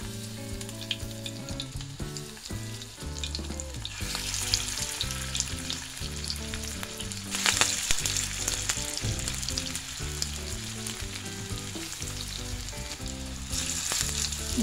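Shrimp and lentil fritters sizzle in hot oil in a pan, a loud continuous close-up frying crackle and hiss with bursts of stronger spitting, and no talking over it.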